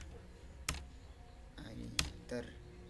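Keystrokes on a computer keyboard with a couple of sharp, isolated clicks like Enter presses, spaced apart over a faint room hum, close to the mic.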